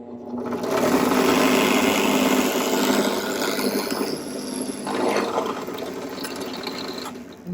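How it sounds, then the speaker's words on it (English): A drill press runs with a steady mechanical whir and grinding hum as it bores a pilot hole for a DIY copper-look kitchen shelf bracket, holding steady before a brief dip and ending. "And Elpida, why we're using the drill press for this?"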